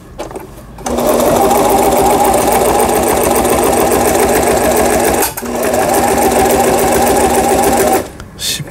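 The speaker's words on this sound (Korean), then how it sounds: "지그재그 넓은 9번에 이제 세발뛰기 바느질이 되겠죠" A Toyota household sewing machine runs a wide three-step zigzag stitch with a fast, steady mechanical whirring hum, loud and close, stopping briefly midway before starting again.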